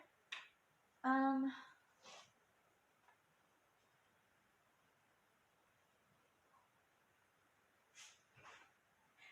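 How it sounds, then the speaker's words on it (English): A dog gives a single short bark, followed by a few faint scattered noises in an otherwise quiet room. "Sorry, I heard the dog."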